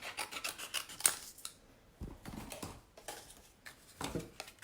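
Scissors snip through paper to free a craft punch for turning, a quiet run of rasping cuts in several short bursts with small pauses between them.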